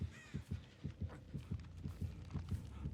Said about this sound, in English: Heartbeats kind of reveal where the survivors are at